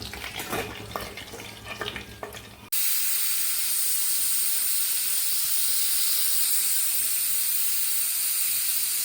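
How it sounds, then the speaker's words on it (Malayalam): A pressure cooker blasts a loud, steady jet of hissing steam that starts abruptly after a few seconds of quieter kitchen clatter and stays constant, close to the listener. "നാല് വിസിലടിച്ച ശേഷം നമുക്ക് കുക്കർ ഓഫ് ചെയ്തിടാം"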